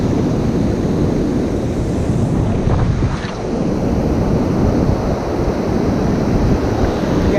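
Sea waves roll and break steadily on a shallow, gravelly beach at Lessingham, Norfolk, a continuous loud surf wash with wind buffeting the microphone throughout.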